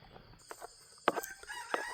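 A rooster crows faintly in the distance on an early morning, a few thin calls rising over quiet background hiss.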